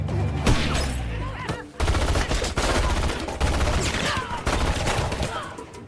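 Gunfire in a film scene as Agent Cruz's shot misses, with heavy bursts of shots and loud reports repeating amid sustained, dense noise.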